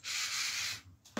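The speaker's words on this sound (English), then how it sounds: "I'm rummaging through a box of random stuff because for some reason I'm missing some bolts." A short rummaging sound through a box of random bike parts: a steady, close rustling scrape lasting under a second, then a quiet pause and a brief clunk at the end.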